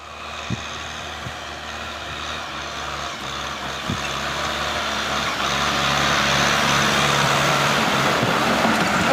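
A new Kubota M6240 tractor engine works hard during dry rotary tilling, a steady heavy drone that grows slightly louder, with a few faint knocks early on.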